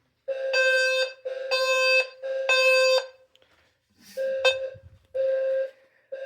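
A System Sensor low-frequency fire alarm sounder blares in repeated long, low-pitched buzzing tones, each about a second, with brief gaps and one irregular, shorter burst.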